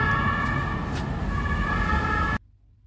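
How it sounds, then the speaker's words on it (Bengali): An emergency vehicle siren wails close by on a Paris street during the Olympics, a loud steady two-tone whine over traffic noise that cuts off abruptly near the end. "আর সাইরেনের আওয়াজে মাথা খারাপ হয়ে যাচ্ছে"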